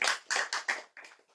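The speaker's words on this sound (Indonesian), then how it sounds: "Tepuk tangan." Audience handclaps: about five quick, separate claps in a short rhythmic burst, fairly faint and close, with no talking over them.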